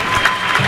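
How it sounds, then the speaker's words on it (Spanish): Crowd applause in a sports hall during a men's national-league match, a brief, dense, loud wash of clapping with a roomy echo. "Remata este minuto de aplauso para o Samurai"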